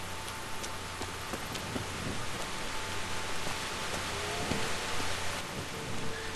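Rain falls steadily in Kingdom Come: Deliverance, a constant hiss of drops with scattered nearer patters on surfaces and a low hum beneath, with no talking.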